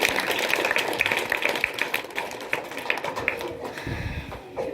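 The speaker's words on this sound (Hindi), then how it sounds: "ताली बजाइए" Scattered, uneven clapping from an audience at a school graduation ceremony, a flurry of close hand claps that thins out toward the end.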